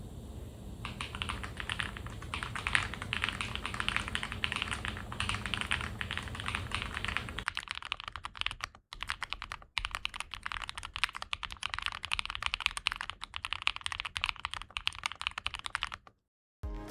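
Continuous fast typing on a Neo mechanical keyboard, steady dense clacks close to the mic, with a brief change in tone partway through and a short pause near the end.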